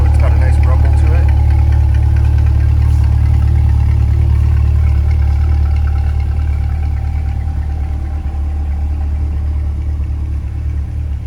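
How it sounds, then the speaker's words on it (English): A white 2020 Corvette 2LT Z51 idles in Z performance mode with its exhaust open, giving a loud, deep, steady rumble that holds for over ten seconds and eases slightly near the end. "I've got it in the Z performance mode, so the exhaust is open there, so it's got a nice rumble to it."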